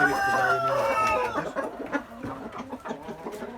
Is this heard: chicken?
yes